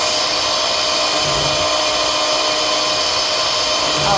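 An electric mixer beats a cherry cake mix, a steady, loud, unbroken motor whir with no talking.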